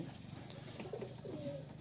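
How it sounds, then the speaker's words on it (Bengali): Fantail pigeons coo softly in a few low, rounded phrases close by, over a steady faint background hiss. "এই ময়ূর কবুতর জোড়া সুন্দর একটা দৃশ্য দেখুন"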